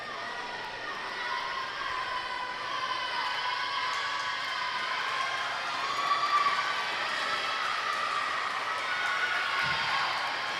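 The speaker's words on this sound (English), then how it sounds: "The whole natatorium's cheering him on." A crowd in an indoor swimming natatorium cheers at a swim meet, a continuous roar of voices with whistle-like shrill tones, steady and fairly loud throughout.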